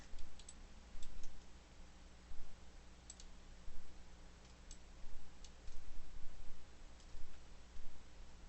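Soft computer mouse clicks while modeling in Autodesk Maya 2019, faint and close, single and double taps scattered irregularly over a low steady hum.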